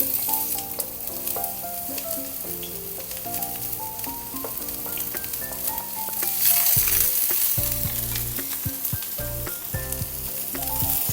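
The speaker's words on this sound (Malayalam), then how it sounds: "നമ്മുടെ പാൻ ചൂടായി, അതിലേക്ക് നമ്മൾ ഈ ചെറുതായിട്ട് അരിഞ്ഞ സബോള ഇടുക." Finely chopped onion dropped into a hot pan, a loud continuous close sizzle with stirring, no talk, under background music.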